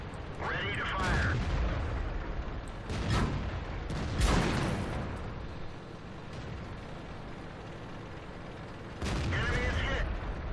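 A World of Tanks tank cannon fires in a heavy boom, followed by further deep blasts spread over several seconds in the game, loud and close, with a voice briefly speaking between them.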